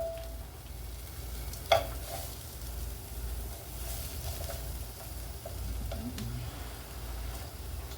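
Peppers and onions fry in leftover grease in a small skillet, a quiet, steady sizzle with a few clicks and knocks under low background hum.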